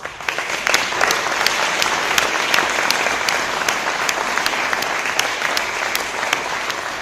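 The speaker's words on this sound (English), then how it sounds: "Let's give them a round of applause." A closing-ceremony audience at the Dartmouth Mandela Washington Fellowship gives a round of applause: loud, continuous clapping from a large crowd, steady for several seconds, with crisp individual claps standing out on top.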